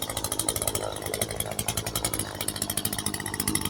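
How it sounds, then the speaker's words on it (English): A power hedge trimmer buzzes loudly and close while trimming a scraggly bush outdoors, its cutter chattering in a rapid, pulsing rhythm throughout with no voices. "the bush ain't pretty to begin with, so we're just giving it a little trimming, get it a little bit nicer."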